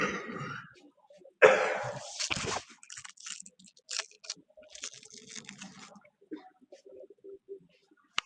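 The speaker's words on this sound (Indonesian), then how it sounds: "saya batuk ini udah 3 hari" A couple of short coughs near the start from a speaker with a three-day cough, followed by quiet, scattered speech and small handling noises.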